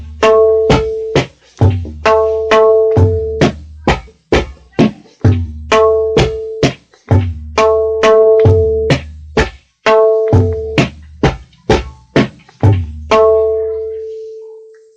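A tabla plays the bala section of a composition: a fast stream of crisp, resonant strokes in repeated rhythmic phrases, with ringing bass tones under sharp treble slaps, close and loud with no talking.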